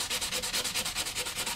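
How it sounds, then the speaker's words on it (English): Rhythmic back-and-forth dry sanding with 180 grit sandpaper on a sculpted action figure, steady rasping strokes about eight times a second, close and fairly loud with no voices. "Now I got a piece of 180 grit sandpaper."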